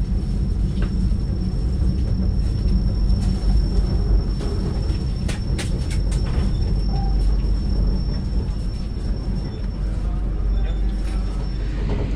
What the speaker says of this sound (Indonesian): ini kereta api menoreh berangkat dari stasiun Jatinegara menuju Pasar Senen